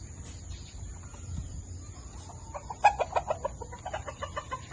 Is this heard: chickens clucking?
yes